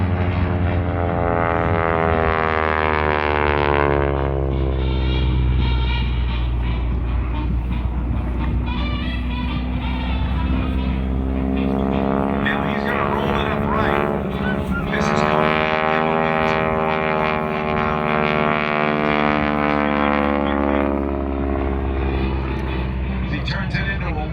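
A North American Texan propeller trainer flies at the MCAS Beaufort airshow, its loud droning engine rising and falling in pitch as it passes and maneuvers, with an announcer talking over it throughout.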